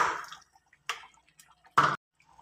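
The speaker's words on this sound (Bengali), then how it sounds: "আমি দুটো আলু ভালো করে ম্যাশড করে নিয়েছি।" Boiled potatoes being mashed make soft wet squishes, three brief separate squelches with quiet gaps between, close up and with no talk.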